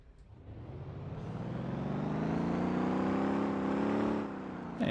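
A car engine revs up steadily and shifts gears through a manual transmission in the Motor Town driving game, rising in pitch over several seconds before a shift, loud and close with no talk.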